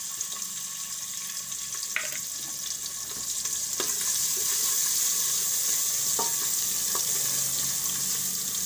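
Onions frying in a pan with asafoetida, a bright, steady sizzle that grows a little louder and fuller, with a few soft clicks of a utensil.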